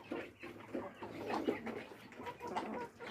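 Layer hens cluck softly and repeatedly in a calm flock, a faint, low murmur of overlapping calls.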